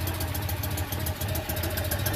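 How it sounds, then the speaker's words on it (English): Citroen 2CV engine idling with a cracked exhaust pipe, a close, steady low throb with rhythmic pulsing and slight knocking, no talking over it, in cold weather. "I think we got a crack in our exhaust someplace."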